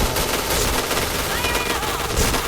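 Dense, sustained automatic gunfire from the battle-royale shooter game PUBG, loud and continuous with rapid overlapping shots and occasional sharper cracks, filling the whole short stretch.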